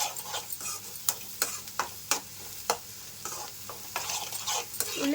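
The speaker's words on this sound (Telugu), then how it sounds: "ఉప్పు కారం గరం మసాలా ఇవన్నీ వేసాం కదా ఒక రెండు నిమిషాలు వేయించుకోవాలండి" Onions frying in a pan with salt, chilli powder and garam masala, a steady soft sizzle under sharp, regular scrapes and taps of a spoon stirring close by.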